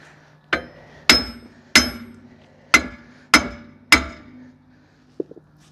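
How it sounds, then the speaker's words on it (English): A heavy hammer strikes a 2005 Toyota Corolla rear hub assembly six times in loud, ringing metallic blows at an uneven pace, followed by a faint clink, with no talking. "Grab the BFH hammer and start whacking."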